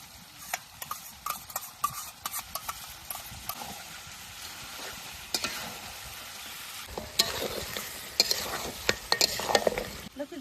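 Meat mixed with curd being stirred in a pan, a steady run of scraping spoon strokes and soft sizzling that grows busier and brighter toward the end, with no talk.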